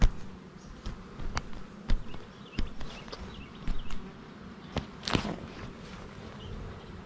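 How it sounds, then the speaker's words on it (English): Bees buzzing around an open beehive during a hive check, a near, steady insect drone punctuated by sharp knocks and handling clatter. "Oh, I got a bee in there."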